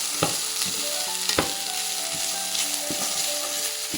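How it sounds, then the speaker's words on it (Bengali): Rice frying in a pan, with a steady close sizzle throughout and several sharp scrapes and taps of a stirring spoon at irregular intervals, no voices. "ভাজাটা আমি ততক্ষণই ভাজবো যতক্ষণ পর্যন্ত চাল থেকে একটা আঠা না বের হয়"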